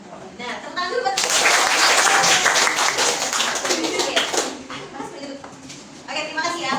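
Schoolchildren in a classroom burst into clapping at the end of a lesson, loud and ragged for several seconds, then fading into scattered claps as voices chatter around them.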